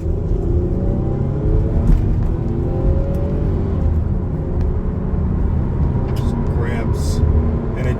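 Toyota Avalon XLS with 68k miles accelerating hard and pulling steadily, a continuous low engine rumble and road roar from inside the cabin, with the engine note gradually climbing.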